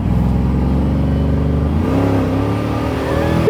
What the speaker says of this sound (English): I love the bypass valve. I mean, it sounds like a blow-off valve on a turbo car, really.